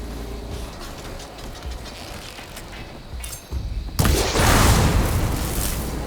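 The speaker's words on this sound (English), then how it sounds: "Shooting that with the right ammo should detonate it." A loud, broad explosion is set off by a shot in the video game Horizon Forbidden West, bursting suddenly after low mechanical ticking and continuing as a sustained roar.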